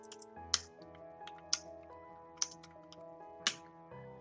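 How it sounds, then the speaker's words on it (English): Fingers tap out a note on an iPad touchscreen keyboard, a quiet run of soft irregular taps with a few sharper clicks, close and alone. "And then I go into the text editing screen and I'll just type in my note."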